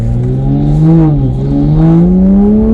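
A tuned Toyota A90 Supra on a low-power 270 wheel-horsepower map pulls at full throttle, engine droning loud and close from inside the cabin, pitch climbing steadily, dipping briefly at a shift, then rising again.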